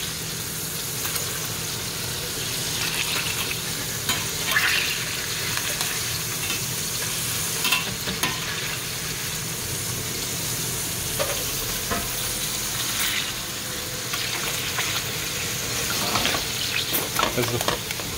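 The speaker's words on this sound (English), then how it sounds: "As the frying pan with all of the hot oil goes everywhere." Food frying in a pan of hot oil, giving a steady, dense sizzle and crackle throughout with occasional louder pops and spits, close up and without talk.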